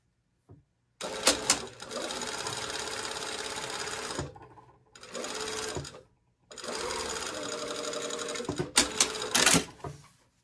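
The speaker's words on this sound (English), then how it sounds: "we're just going to sew this seam at 5/8 of an inch" A home sewing machine stitching a 5/8 inch seam on a garment body, fast mechanical whirring in three bursts separated by short pauses, close and clear with a few clicks between runs.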